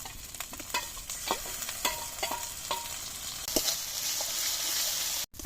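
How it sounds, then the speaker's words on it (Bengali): Ginger-garlic paste with green chili and onion paste frying in hot oil in a pan for a mango and fish dish, a steady close sizzle broken by repeated scraping stirs, with no talking. "আমার মশলা কষা হয়ে গেছে"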